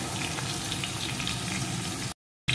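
Winter vegetable filling for spicy patishapta, seasoned with salt and turmeric, frying and being stirred in a pan: a steady close sizzle with light stirring scrapes, cut off by a brief silence near the end.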